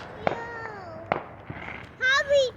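Fourth of July fireworks go off as sharp pops at irregular intervals, with a whistling, whining tone and loud squeals toward the end, close to the recorder.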